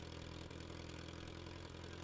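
Willys FC-150 tow truck engine running at a steady idle, a quiet, even mechanical drone with a low throb and no change in pace, heard alone.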